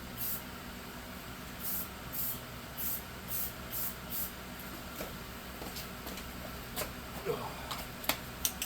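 An aerosol can of primer sprays a miniature figure in a series of short hissing bursts, followed by a few sharper sprays near the end, close and fairly loud over a low background hum.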